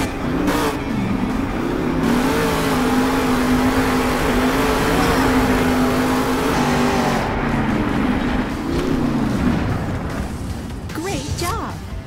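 Engine roar of a monster truck spinning donuts in the video game Monster Jam Steel Titans 2, a loud continuous revving drone that swells and wavers for several seconds, with a voice speaking over it.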